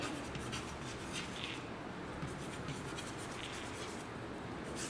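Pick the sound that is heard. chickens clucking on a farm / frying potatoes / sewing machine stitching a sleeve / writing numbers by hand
writing numbers by hand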